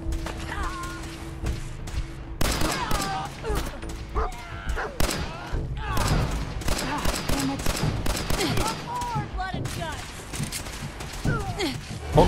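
Gunfire from gunners in Fallout 4 crackles in scattered shots and short volleys, heard under a person talking excitedly throughout.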